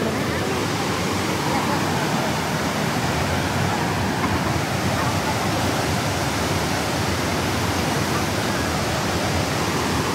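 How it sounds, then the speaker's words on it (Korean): Iguazu Falls on the Brazilian side, a broad, steady roar of falling water, loud and unbroken throughout without any clear voices. "폭포물이 부딪히면서 이쪽으로 물이 많이 오잖아요."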